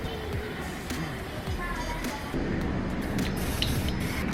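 WD-40 is sprayed onto a motorcycle throttle grip to free it, giving a steady close hiss that runs the whole time and gets slightly louder partway through, with faint background noise.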